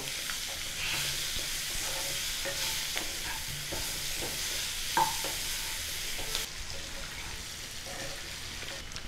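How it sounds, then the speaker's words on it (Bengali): Potatoes fry steadily in a pan, a continuous sizzle with scraping stirs of a spatula throughout, with no talking. "আলুগুলো একটু লাল করে ভেজে নেব"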